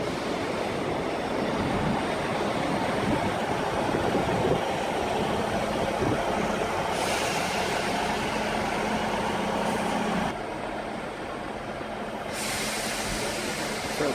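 A GWR train bound for London Waterloo pulls out of the station with a loud, sustained rumble and roar of wheels and engine that holds steady and then eases slightly as it moves away.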